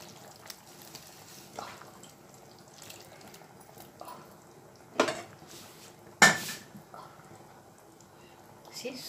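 A spoon stirs anchovy curry in a cooking pot, quiet scraping with a couple of sharp metallic clanks against the pot, while a person talks intermittently.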